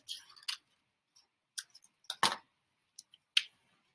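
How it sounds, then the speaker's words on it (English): Scissors snip through paper in a series of short, close, crisp cuts with pauses between, tracing a zigzag line along the sheet's length; no one speaks. "I'm gonna cut a zigzag line about the length of my paper."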